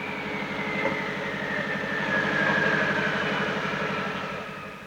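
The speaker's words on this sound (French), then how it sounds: "Écoutez la voiture au ralenti" A car with a turbocharged 1.4-litre engine making over 300 horsepower sits idling, a steady, low, rhythmic burble with a faint whine drifting above it.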